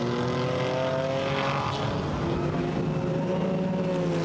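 GT4 race cars braking and battling through the tight right-hander at Zandvoort's Mastersbocht, a dense, continuous engine roar with shifting tones from several cars at once, steady and loud throughout.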